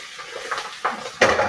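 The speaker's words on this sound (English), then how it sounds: "I'm going to put my greens in with the turnips that I have sliced up." Sliced turnips and turnip greens dropped into a cooking pot with salt pork grease, giving a few clattering knocks of pot and utensil, the loudest at the end, with no voices.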